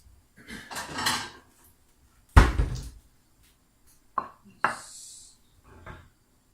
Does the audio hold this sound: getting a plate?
yes